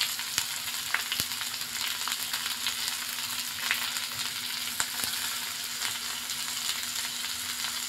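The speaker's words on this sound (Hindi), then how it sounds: "उसके बाद हम प्याज डालेंगे। प्याज को भी सुनहरा कर लेंगे।" Onions fry in a pan for besan kadhi, a dense, even sizzle with scattered crackles and a faint steady hum beneath, no voices.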